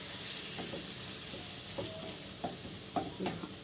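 Marinated chicken shawarma frying in a pan, a steady sizzle beneath several soft scraping stirs and clinks as the pieces are spread out, no voices.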